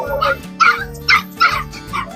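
Several dogs brought for sale at the Maghi fair animal market yip and bark in short, sharp bursts, with whimpering in between, close by amid a steady background hum.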